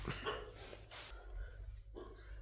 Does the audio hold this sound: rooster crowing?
no